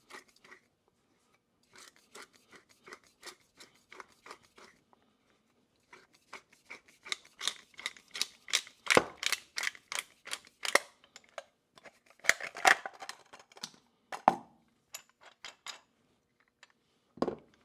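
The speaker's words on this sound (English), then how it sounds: "oil filter cutting tool produces very sharp edges along here" A hand-operated oil filter cutting tool slicing open a Purolator BOSS oil filter, a long run of sharp metallic clicks and crunching snips in uneven bursts, close by and without speech.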